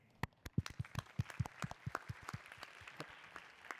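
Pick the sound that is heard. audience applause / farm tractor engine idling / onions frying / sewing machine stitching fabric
audience applause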